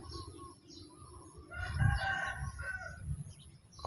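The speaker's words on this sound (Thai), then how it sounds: "ไก่" A rooster crows once at moderate distance, a drawn-out cock-a-doodle-doo over a low background hum.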